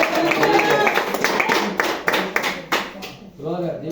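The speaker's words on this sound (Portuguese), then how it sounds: "As palmas para Jesus Cristo." Church congregation clapping hands together, loud irregular claps with voices over them, tapering off before a man's speech resumes at the end.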